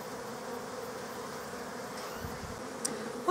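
Honey bees moving into a long bench hive give off a steady, close buzzing hum that holds for the whole stretch, with no voices over it.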